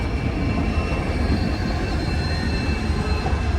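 The Donyi Polo Express rolls into a station with a steady heavy rumble of wagons and wheels on track and a faint squeal of wheels, close and continuous.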